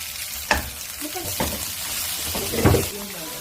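Oil sizzles and crackles in a frying pan for kimchi fried rice, a steady close hiss broken by a few louder spits and stirring scrapes, with a voice speaking over it.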